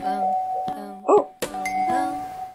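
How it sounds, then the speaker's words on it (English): A doorbell chimes once, a short two-tone ring standing out clearly in a quiet room, with music or voices continuing before and after it. "Yeah, I heard your doorbell."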